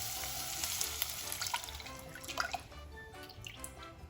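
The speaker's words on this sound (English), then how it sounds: "let all these vegetables saute in coconut milk for about 5 to 7 minutes" Vegetables and potatoes simmer and sauté in coconut milk with a quiet, bubbling sizzle, soft drips and occasional stirring clinks close by, and no talking.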